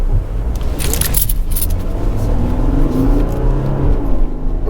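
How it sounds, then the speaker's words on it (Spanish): An Audi Q diesel SUV in Dynamic mode pulls away from a standstill, its engine rumbling loud and steady as the turbo spools up, with a whirring hiss building over the drone. "Ya se siente como está trabajando el turbo, tarda un poquito en entrar"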